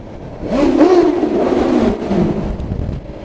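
A motorcycle fitted with a Pro Race exhaust can revs loudly under a bridge, one sharp rising rev followed by a sustained, throaty drone that echoes nearby before easing off.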